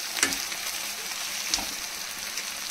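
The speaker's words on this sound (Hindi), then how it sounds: "ये हमारे प्याज अच्छे से फ्राई हो जाएंगे।" Constant hiss of onions sizzling in hot oil for a desi-style mutton rogan josh, steady and close, with two brief scrapes of stirring against the pan.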